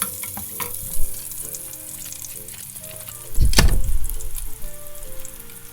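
Onion dropped into hot oil in a pan for palabok sauce, a sudden loud burst of sizzling that settles into a steady crackling fry, close by, preceded by faint kitchen clatter and no talk.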